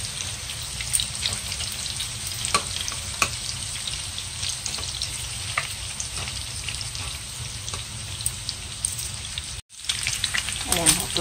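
Bacon and onion frying in a pan until toasted, a dense, even crackling sizzle that runs steadily for several seconds, cuts out briefly near the end and then resumes, with no talking.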